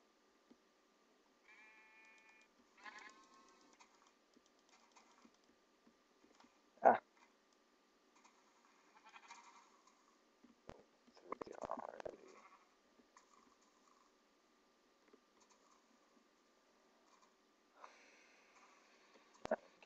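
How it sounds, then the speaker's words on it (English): Sheep bleat in short, quiet calls outdoors, with snuffling and scattered soft noises between them in a mostly quiet setting. "Come here, sheepy."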